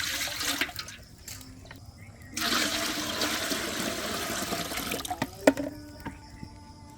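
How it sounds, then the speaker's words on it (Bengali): Water is poured into a cooking pot of braised beef for kacchi biryani, a close, rushing splash that starts abruptly and runs for a few seconds before easing into light clatter. "পানিটা দিয়ে দিলাম"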